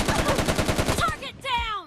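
Rapid automatic gunfire from a team deathmatch shooter video game rattles in a fast, even burst for about a second, followed by a short tonal game sound.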